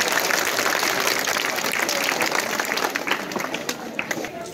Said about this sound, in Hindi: ल हेड सरको सम्मानमा ताली